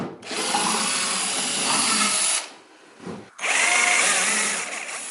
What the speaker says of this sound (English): we're going to drill this in, make some nice little holes